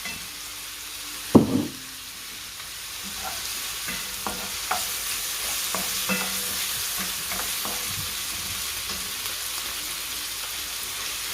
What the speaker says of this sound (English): Next, I'm gonna add in a spoonful of garlic paste to it.